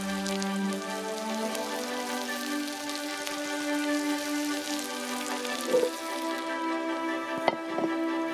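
Steady soft sizzling of liver frying in a pan, an even crackling hiss with a few sharper pops and clicks near the end.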